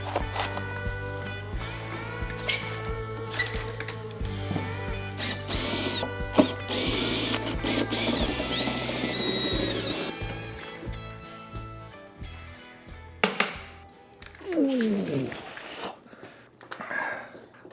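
Power tools and ratcheting wrenches whir and clatter in bursts as bolts are loosened to free a fiber laser engraver from its shipping pallet, followed by scattered metallic knocks and handling noises.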